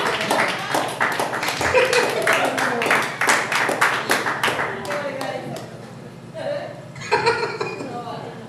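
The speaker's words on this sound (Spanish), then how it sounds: "Un aplauso al Señor." A church congregation breaks into clapping during a sermon, dense rhythmic hand claps and scattered laughter filling the room, fading somewhat before a brief renewed burst near the end.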